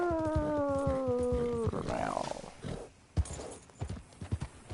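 Horse hooves clip-clopping at a gallop in the Red Dead Redemption video game, steady rhythmic beats up close, with a loud whinny early on and a few heavier thuds toward the end.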